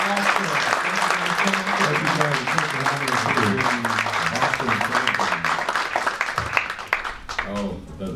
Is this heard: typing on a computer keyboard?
no